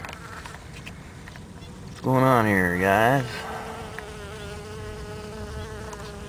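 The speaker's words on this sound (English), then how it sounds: "let's get some bee action in there" Bees buzz around flying saucer cactus flowers outdoors, one close insect passing with a loud wavering drone for about a second, then a fainter hum continuing, while someone speaks briefly.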